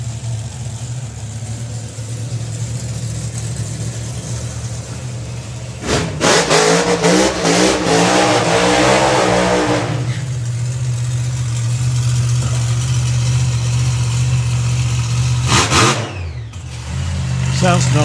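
Mustang-bodied funny car at a drag race, a loud idling engine burble punctuated by two roaring blasts, a long one mid-clip and a shorter one near the end, with a commentator talking over it.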